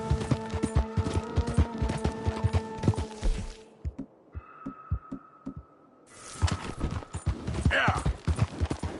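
Horse galloping in the video game Red Dead Redemption 2: rapid rhythmic hoofbeats under a musical score, fading briefly to a quieter stretch before the pounding returns, with a voice urging it on.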